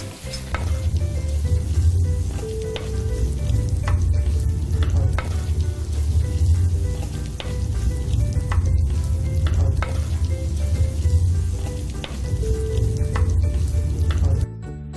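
Tomato sizzles loudly in a pan with salt, a dense continuous frying hiss broken by regular scraping stirs and light utensil taps, close up and without speech.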